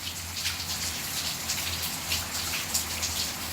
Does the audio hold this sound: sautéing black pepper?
no